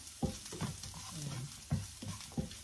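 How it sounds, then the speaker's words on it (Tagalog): Garlic fries in a pan for a breakfast dish, a soft sizzle broken by several distinct scraping stirs of a utensil, close and fairly quiet with no talking. "Nag-fry ko kaunti para medyo yung ano natin maluluto yung garlic, and then fragrant."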